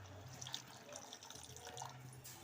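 Water goes into a dhaba-style chicken curry with chopped coriander, a soft, brief splashing pour heard faintly and close.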